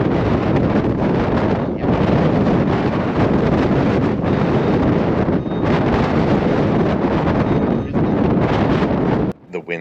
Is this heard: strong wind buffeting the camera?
yes